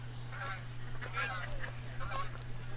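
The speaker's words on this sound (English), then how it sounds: "Canadian geese flying overhead." Canada geese honk overhead in a few separate calls, fairly distant, above a steady low hum at an outdoor lawn bowls championship.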